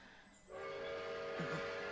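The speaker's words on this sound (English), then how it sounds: "There's your train." A train from an anime episode rolls in with a steady rumble and a sustained horn-like tone, moderately loud and close, with no talking over it.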